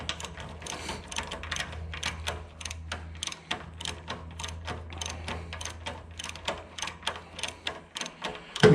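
The starter on an Allis Chalmers WD tractor is tightened during a repair, giving a steady run of rapid, close mechanical ratcheting clicks that continues for several seconds with no talking.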